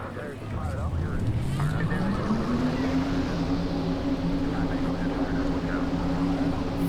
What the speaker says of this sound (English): 42 cars fired up at the Pocono Raceway